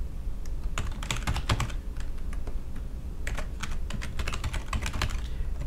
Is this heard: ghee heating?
no